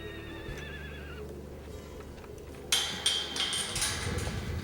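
Mares and a couple of geldings neigh and whinny in a wild horse rescue pen, a wavering call early on, then hooves clop and knock on hard ground, close and fairly clear.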